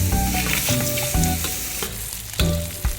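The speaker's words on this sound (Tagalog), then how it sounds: "ngayon po ay magpapapula na tayo ng ating mga liempo" Liempo pork belly frying in a pan, a loud, steady sizzle with sharp crackles and spatters and a few clattering stirs.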